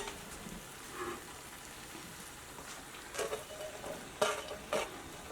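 Capsicum stirred into a pan of frying mushroom roast for a Kerala koon curry, with a soft steady sizzle and a few sharper scraping stirs near the end, no talking.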